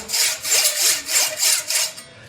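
Hand filing or sawing removes excess brazing metal from an antique nineteenth-century key, a loud rhythmic rasp of about five strokes, close up with no talk.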